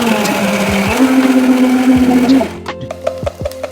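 A kitchen mixer grinder blends spinach and green chillies with a loud, high motor whine for about two and a half seconds. It then cuts off, leaving a few scattered knocks and clicks.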